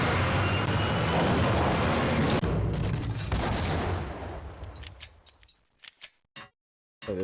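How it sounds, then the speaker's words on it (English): Rifle gunfire in the Max Payne video game, a dense loud burst of shots and explosive noise over the first few seconds, fading into sparse, quieter sharp cracks and a final shot near the end. "Thank God I have a fucking rifle."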